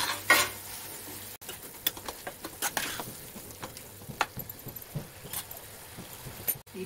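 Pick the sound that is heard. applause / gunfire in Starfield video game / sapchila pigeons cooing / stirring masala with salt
stirring masala with salt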